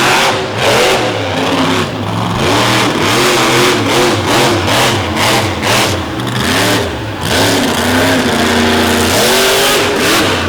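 A monster truck engine at a 2023 Monsters 'N' Megas show revs hard over dirt jumps and buried K-rails, loud close bursts of throttle rising and falling in repeated surges with brief dips between.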